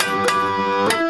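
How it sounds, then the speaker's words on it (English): Two electric guitar notes sounded together as a double stop, plucked twice about half a second apart, each ringing on with sustained harmonics. "playing this double stop, which is playing the 2 strings at the same time"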